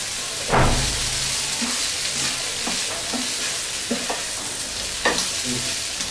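Okra frying in a pan is stirred, giving a steady close sizzle with repeated scraping stir strokes over about six seconds and no voices.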